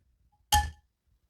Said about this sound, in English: We're still stirring, stirring, stirring.